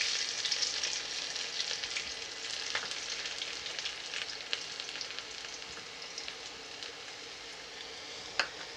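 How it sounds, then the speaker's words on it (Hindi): Garlic frying gently over low heat in a pan for a mustard greens and potato sabji, a steady soft sizzle with light crackles and an occasional sharper pop, close and continuous with no voices. "लहसुन को हम आराम से धीमी आंच में फ्राई करेंगे जब तक ये गुलाबी ना हो जाए।"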